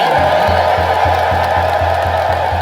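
Worshippers at a sermon about the Virgin Mary fill the air with loud, sustained celebratory ululation, a steady shrill chorus over a regular low thumping beat.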